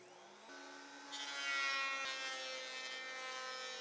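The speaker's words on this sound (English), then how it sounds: "I'll run the pieces through the planer to standardize the thicknesses." A thickness planer runs pieces of forgotten scrap wood through, its motor whine rising in pitch and loudness and then holding a steady, tonal hum, fairly close with no voices.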